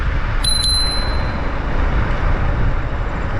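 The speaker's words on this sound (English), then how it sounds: "It does have a bell." Two quick bright dings from a scooter bell ring out near the start over a steady wash of outdoor traffic noise.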